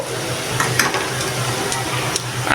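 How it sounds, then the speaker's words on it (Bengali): Bitter gourd (karela) frying in a pan, a close, steady sizzle with soft crackles and occasional sharper spits and stirring clatter throughout. "এই যে আমার করলা ভাজিটা রেডি হচ্ছে করলা ভাজিটা হয়ে গেছে প্রায় আর একটু ভাজা ভাজা করব"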